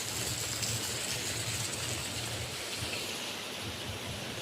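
Steady rain falls outdoors in a dense, even hiss with a soft low rumble underneath, continuous and close throughout, with no voices.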